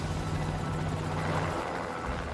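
A helicopter flies over a barren pumice plain near Mount St. Helens, its steady rotor and engine roar filling the short stretch loud and continuous with no voices.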